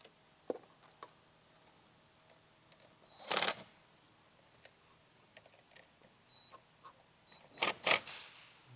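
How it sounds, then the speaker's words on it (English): A small ratchet snugging a 10 mm terminal nut on the auxiliary battery of a 2018 Chrysler Pacifica: faint scattered clicks, two brief louder bursts of rapid ratcheting, in a quiet space. "so I use a small little ratchet"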